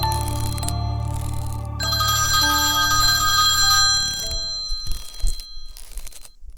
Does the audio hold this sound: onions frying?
no